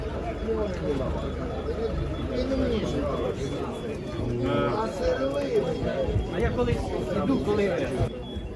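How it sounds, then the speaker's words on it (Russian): German show pigeons and Budapest high-flyers coo softly at an outdoor pigeon market in Dnipro. The low cooing runs continuously beneath constant nearby conversation and general market chatter. "Вот такие у нас немецкие выставочные голуби и будапештские высоколетные."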